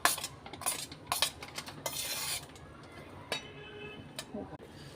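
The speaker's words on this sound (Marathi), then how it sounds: "मस्त असं मिक्स करून घ्यायचं आहे." A spoon stirs and clinks in a bowl as dal vada mixture is combined with hing, cumin and coriander powder, chilli, coriander leaves and onion, giving repeated scraping and metallic taps of varying loudness.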